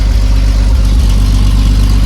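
A 1950s Bedford truck engine idling, a loud, close, steady low rumble with a faint rhythmic pulse and no talking.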